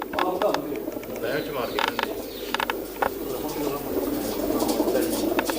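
Racing pigeons in a loft, including a prize-winning female, coo in a low steady murmur with occasional sharp clicks and flutters, while someone speaks over them.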